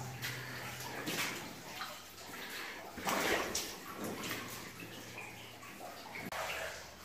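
Boots slosh and splash through deep standing water in a flooded old mine tunnel, a string of irregular wading steps sounding close and echoing faintly against the rock.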